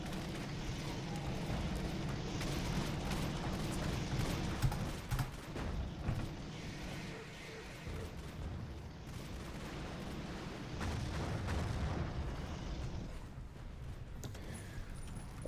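Rapid grenade blasts and battle noise in a Battlefield 40K mod match, a continuous rumbling wash of explosions and crackling gunfire that stays dense and low-pitched throughout, with a few sharper bursts standing out.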